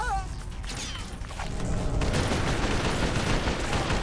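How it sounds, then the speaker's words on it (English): Akimbo pistols blazing in Red Faction II, a loud dense stream of rapid gunshots building after a short pause into sustained fire, close and harsh. "Akimbo pistols, let's go!"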